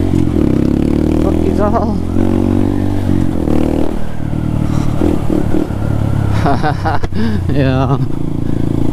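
Honda Grom motorcycle ridden around town, its small engine droning steadily and revving up in short bursts, with nearby talk and shouting over the engine.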